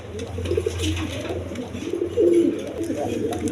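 Orange chiller male pigeon with a boat-shaped beak cooing at a pigeon farm, low throaty coos rising and falling close by, with farm background noise and occasional human voice underneath.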